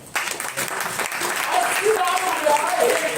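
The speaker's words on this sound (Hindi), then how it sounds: "ताली बजाओ भाई" An audience claps together in a hall at an insurance sales talk, a loud, fairly even burst of applause lasting a few seconds with some voices mixed in.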